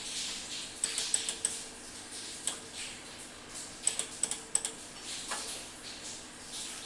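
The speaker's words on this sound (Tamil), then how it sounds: "டெக்ஸ்ட்டை வந்துட்டு டைப் பண்ணி வச்சுக்கிறோம்." Computer keyboard typing, faint and sparse, with irregular small clusters of key clicks over a quiet background hum and no voices.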